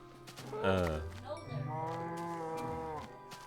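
Minecraft cows let out a long, close, drawn-out moo followed by a second sustained lowing call, clear and fairly loud, with no talking over it.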